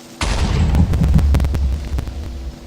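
A Minecraft creeper explodes nearby in a cave level: a sudden loud blast with a heavy low boom and crackling debris that rumbles on and slowly fades, alone without voices.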